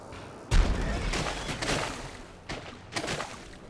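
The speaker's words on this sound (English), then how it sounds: "So I guess we throw another grenade." A grenade going off in the steampunk game Dishonored, a single heavy close blast with a rumbling tail, followed by two softer bursts.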